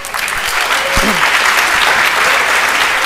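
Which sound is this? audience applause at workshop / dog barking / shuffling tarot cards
audience applause at workshop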